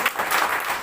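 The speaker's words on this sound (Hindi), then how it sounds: "एक बार जोरदार ताली" Audience applause at an indoor branch meeting in Dhanbad and Jharia, a dense burst of clapping heard alone and fairly loud throughout the short moment.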